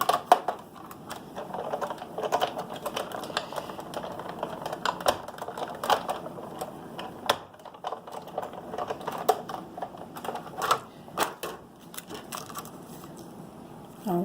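A Big Shot die-cutting machine is hand-cranked to cut paper with Rectangle Stitched Framelits, producing close, irregular clicking and ratcheting crunches that continue for around fourteen seconds without speech.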